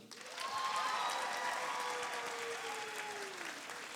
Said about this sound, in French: Mesdames et messieurs, bon applaudissement pour Roxane Bruno